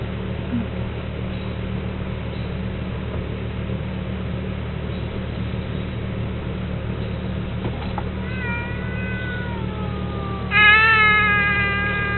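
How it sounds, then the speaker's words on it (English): A cat meows indoors near the end, two rising and falling wails, the second louder and close. Before that comes a long stretch of steady room noise with faint voices. "Is the cat meowing?"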